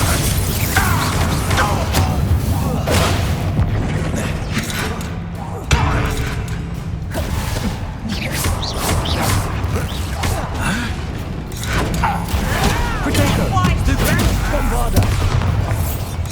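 Bombarda blasting spells in Hogwarts Legacy: repeated booming explosions and thuds in rapid succession amid dense combat noise, with a character's voice speaking over the action.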